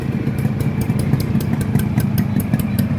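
A Yamaha RX115 or Suzuki Samurai 100 motorcycle with its original, never-opened cylinder and piston idles close by, a steady low, lumpy putter with a faint rhythmic ticking throughout and no voices.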